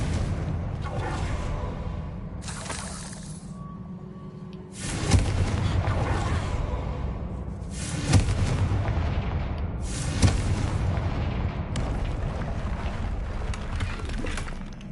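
Confringo spell blasts in Hogwarts Legacy during a fight with an angry troll: several sharp, booming explosions over a continuous rumbling battle din, with a couple of louder hits standing out.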